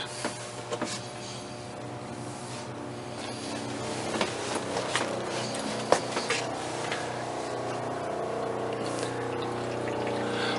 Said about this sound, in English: and turn on the water pump.